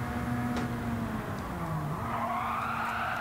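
A Ford Sierra Cosworth RS 500 drifts around the Atlanta circuit in Gran Turismo 7, the engine droning steadily as tires squeal through the slide, with another car's engine audible nearby.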